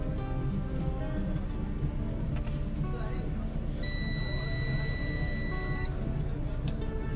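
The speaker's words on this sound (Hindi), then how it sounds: "ये बजर की आवाज आप सुन सकते हैं।" A multimeter's continuity buzzer sounds on a Realme C11 phone circuit board with a charging fault: one steady electronic beep lasting about two seconds mid-clip, over constant background hum and noise.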